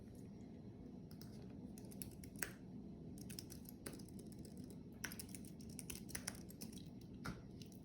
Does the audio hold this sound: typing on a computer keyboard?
yes